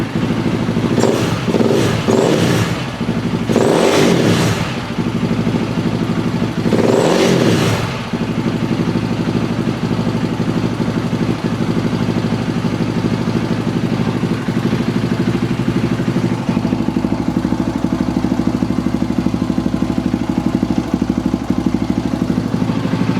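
A KTM 525 motorcycle engine, running again after a no-run fault was fixed, blips through several loud revs early on, then settles into a steady close idle.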